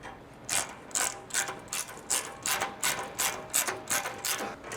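A ratchet snugging security bolts on a Toyota Tundra skid plate, a steady run of about a dozen close, crisp clicking strokes in even rhythm, with no voices.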